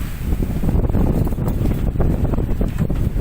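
Strong east wind of 25-plus knots blowing across a sailboat at sea, a steady, loud buffeting roar against the microphone with no speech.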